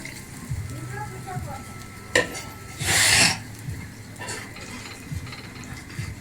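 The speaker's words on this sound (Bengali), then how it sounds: "এবার একটুখানি নাড়িয়ে নেবো" A spoon scrapes and stirs a Bengali bhetki fish dish in a metal pot after water is added, with intermittent clinks, a brief loud splashy hiss in the middle and soft background sizzling.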